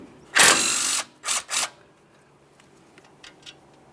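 Ratchet backing out a 10mm-headed mounting bolt on the flex hose bracket at the front steering knuckle of a 2015-2020 Ford F-150: one long loud clicking burst, then two short close bursts, with faint ticks trailing off.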